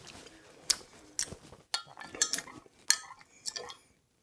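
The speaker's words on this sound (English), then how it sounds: "And then we just give this a nice little stir." A Chinese chicken salad dressing with soy sauce being stirred in a bowl, a spoon clinking and scraping in several short bursts close by, then falling quiet.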